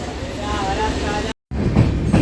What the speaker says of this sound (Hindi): सामने से ट्रेन जो निकल रही है वो है फरक्का एक्सप्रेस